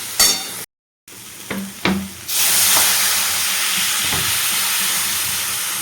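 Water poured into a hot pan of cooking curry bursts into a loud, sustained hiss after a few sharp clatters and a brief silence, the steady sizzle continuing to the end.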